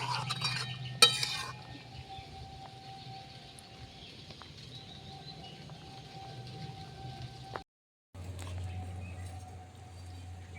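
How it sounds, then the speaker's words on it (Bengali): A spoon stirs chicken gizzard and liver bhuna in a karai, giving faint, quiet scraping with a brief clink near the start and a short silent gap toward the end. "একটু নাড়াচাড়া করে নেব"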